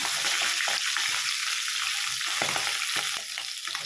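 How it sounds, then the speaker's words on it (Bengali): A single piece of bata fish fries in oil, giving a dense, close sizzle with popping spatters that eases slightly toward the end. "আমি এবার এক পিস মাছ ভেজে নেব আগে।"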